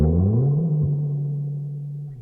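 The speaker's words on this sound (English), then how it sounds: "And then lastly, I just found this guitar slide." A sliding guitar sample in a boom bap beat, a tone gliding upward in pitch then holding a steady sustained note for about two seconds, fairly loud and alone.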